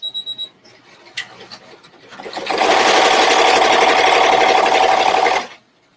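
Embroidery sewing machine stitching a border, a steady loud mechanical whir of rapid needle strokes running for a few seconds after some soft handling taps, then stopping abruptly.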